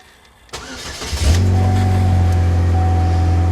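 A Pontiac Sunfire's engine cranks briefly, catches and settles into a steady, loud idle with a low drone, heard close up with no talking.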